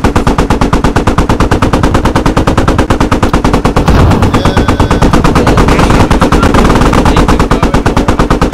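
Continuous rapid machine gun fire in the military shooter game Squad, loud and close, with evenly spaced bursts hammering steadily and no break.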